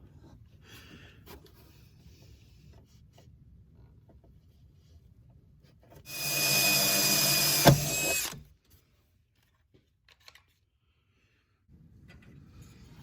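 A power tool runs for about two seconds while removing cover screws during a diesel fuel kit install on a 1996 Ford F-250, a loud buzzing burst standing out between quiet stretches of faint shop noise.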